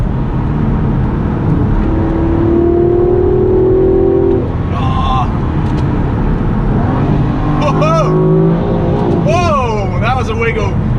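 A car engine revs hard through smooth gear shifts, climbing to around 6,500 RPM. Rising and falling engine tones sweep over a loud, constant road and cabin roar.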